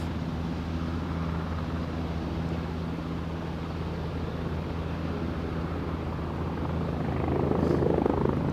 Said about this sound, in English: Another chopper inbound as well.